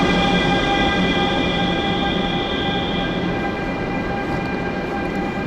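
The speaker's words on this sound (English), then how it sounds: "Hell yeah, we're on an old school train in China." An old-fashioned passenger train running along the line in China, heard from on board as a loud, continuous rumble of wheels and carriage with steady high ringing tones, constant throughout with no voices.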